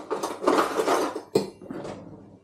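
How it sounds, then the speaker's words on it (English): A fork scrapes cooked rice into a strainer, giving a run of close, busy scraping and light metallic clatter that swells, breaks off sharply and trails away. "Use a fork,"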